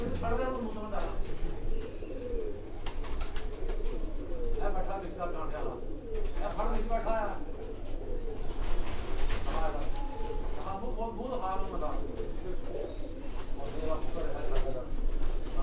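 Teddy pigeons at a Lahore pigeon fancier's home coo in repeated throaty, bubbling bursts close by, while someone talks over and between the calls.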